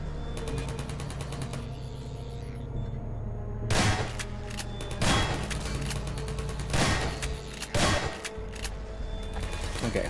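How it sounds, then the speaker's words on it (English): Automated turrets firing in Black Mesa, a video game, let off several sharp, loud bursts a second or two apart over a steady hum and tonal game ambience. "Oh, great, the turrets are back."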